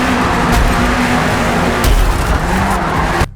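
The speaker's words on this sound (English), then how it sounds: "The collision sounds are terrible." Cars in Forza Motorsport racing game, continuous loud engine roar with tire squeal and skidding, punctuated by a couple of sharp collision impacts near the start and middle, ending abruptly.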